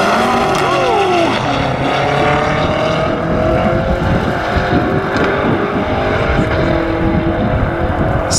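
A Golf accelerates hard from a roll against a 650 hp Lamborghini, engine note rising loud and continuous with slight wheelspin, heavy wind buffeting over the whole run.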